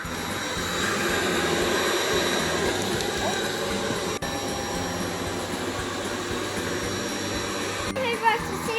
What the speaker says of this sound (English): Now I'm gonna use this to hoover up the sweets into the sock.